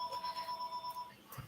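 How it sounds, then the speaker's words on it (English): A telephone ringing faintly in the background, a steady pulsing electronic trill with regular beats that stops partway through, with a faint sound near the end. "I'm sorry for the phone."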